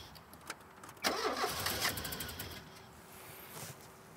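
A worn-out Volvo car engine cranks and catches on starting fluid, a loud burst of engine noise that settles into a rough, uneven run with no idle, close by.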